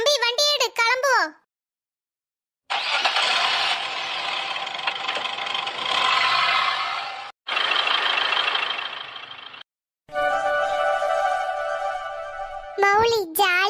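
A vehicle engine runs loud and steady with a broad roar at the start of a family trip to Courtallam. It cuts out briefly twice, and children's voices are heard at the beginning and end.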